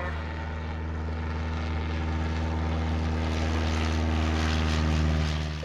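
A 1946 Air Coupe with an O-200 engine rolls down the runway for takeoff, its propeller droning steadily and loudly at full power throughout, with no talk over it.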